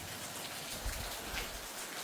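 Steady rain falls in a mountain home, a continuous hiss of drops on surfaces throughout, with occasional duller thuds of water hitting nearby.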